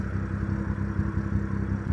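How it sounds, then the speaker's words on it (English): A stage 2 BMW 540i engine runs steadily with a low, rumbling exhaust drone and a slight burbling pulse, heard up close without talk. "let me show you guys how the exhaust sounds at the moment"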